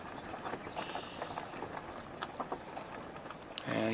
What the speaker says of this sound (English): And a yellow warbler.